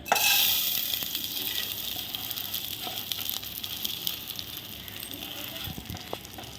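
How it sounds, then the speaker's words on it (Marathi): Rice sautéing in ghee with cloves in a pot gives a soft, continuous crackling sizzle with faint scraping stirs, fairly quiet and close. "हे तांदूळ सुद्धा आपल्याला थोडेसे परतून घ्यायचे"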